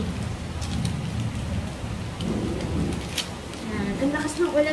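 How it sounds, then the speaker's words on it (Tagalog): Heavy rain falls outside during a downpour, a steady dense hiss with low rumbling close by that runs through the whole stretch, while a voice is faintly heard near the end. "Yan, ang lakas ng ulan sa labas."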